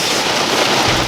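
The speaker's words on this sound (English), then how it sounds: "The rain is bad." Heavy summer-storm rain drums steadily on a van roof, a loud, dense wash of drops with no gaps, heard from inside the vehicle.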